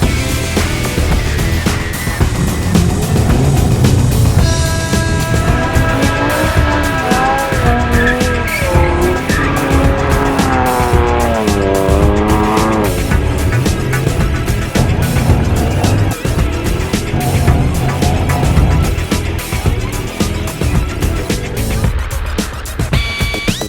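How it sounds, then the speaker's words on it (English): Car doing a burnout and donuts in a National Forest Service parking lot during a rally, loud continuous tire squeal wavering in pitch over roaring engine revs for the whole stretch. "that's how you do a burnout, buddy"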